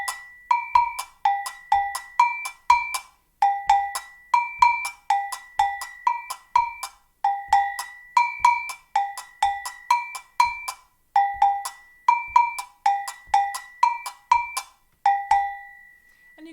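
Two-toned agogo bells play a steady, syncopated samba pattern alone, bright metallic strikes alternating high and low in a repeating cycle.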